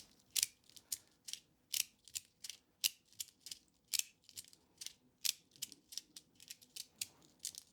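Puchicon Tough Tank keyboard switches rattle in quick rhythmic bursts, about two clacks per second, crisp and close in an otherwise quiet room.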